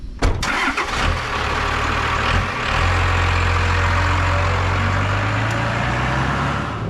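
A Cadillac engine fitted in an old Ford Thunderbird, abandoned for decades, cranks and catches early on, then settles into a steady, loud, close idle that runs uninterrupted to the end.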